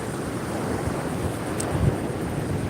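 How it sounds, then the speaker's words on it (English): Ocean surf at a beach rolls in as a loud, steady wash of broadband noise, with wind buffeting the microphone throughout and no one speaking. "Waves are starting to get a little bit better."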